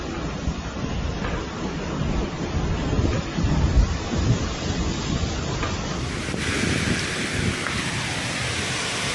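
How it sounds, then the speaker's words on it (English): Tropical storm Lisa battering Belize, loud continuous wind buffeting the microphone over roaring surf and rain, a dense unbroken roar that swells and holds steady throughout, with no voices. "Tropical storm Lisa hits Belize, next stop is Miami."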